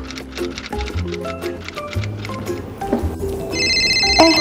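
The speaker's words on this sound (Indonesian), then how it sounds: "Kakak mau coba video call Boni dulu ya." A video call ringtone chimes in a repeating electronic pattern, with steady beeping tones over a light musical backing, rising in brightness toward the end.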